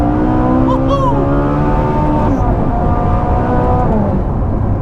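A Ferrari 458's naturally aspirated V8 revs hard to 8,500 RPM on a straight road, the engine note climbing and falling in bursts of rising tone, heard from inside the car with people talking over it.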